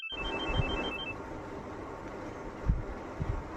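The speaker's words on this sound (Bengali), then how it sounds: "একটু ফোন করে দেখি।" A telephone being dialed at home, with short beeping keypad tones at the start over a steady hiss, then a few soft handling knocks nearby.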